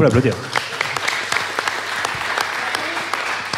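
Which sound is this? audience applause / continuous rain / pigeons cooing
audience applause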